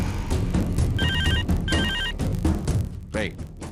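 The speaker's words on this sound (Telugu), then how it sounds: "ఫోన్ మోగుతుంది చూడు." A telephone rings in two short bursts of electronic trilling, with voices and other household sounds around it.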